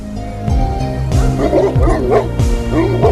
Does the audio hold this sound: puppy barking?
yes